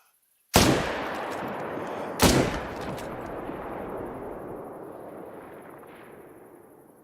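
Two loud hunting-rifle shots in theHunter: Call of the Wild, close and sharp, the second about two seconds after the first, each trailing into a long rolling echo across open terrain with no talk.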